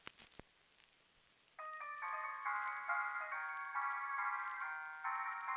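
Gramophone record music in Alone in the Dark (1992) plays as a thin, tinkling synthesized melody of repeating stacked notes, starting after a couple of faint clicks and holding steady at moderate level to the end.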